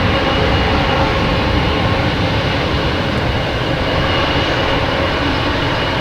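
Southwest Airlines jet flying at Boston Logan Airport, a loud, steady broadband engine roar that stays constant throughout with no talk.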